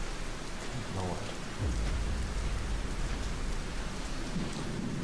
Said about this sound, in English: It's a nice rainy day.